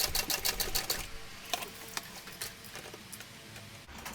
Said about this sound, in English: And I'm sewing that 1/8 inch from that edge